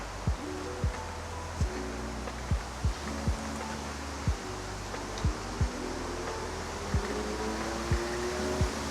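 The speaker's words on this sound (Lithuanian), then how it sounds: "Pakilo labai vėjas ir pradėjo lyt." Strong wind and rain outdoors on a forest walking trail, a steady, soft broadband rush with a series of faint low thumps spaced throughout, fairly quiet and with no talk.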